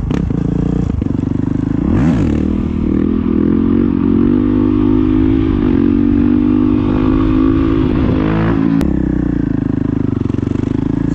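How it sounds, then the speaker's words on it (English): A Honda CRF450L dirt bike revs hard while doing wheelies, a loud, close, sustained engine roar that climbs and dips in pitch, with wind rumble and a brief clunk near the end. "Let's do some wheelies first."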